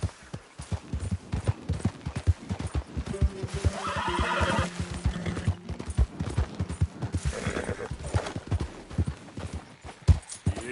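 A horse in Red Dead Redemption 2 gallops with rapid rhythmic hoofbeats, and a loud neigh rises partway through before the running hooves carry on.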